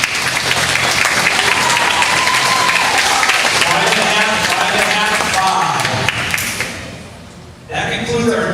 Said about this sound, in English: Can we please give our divers a big round of applause, please?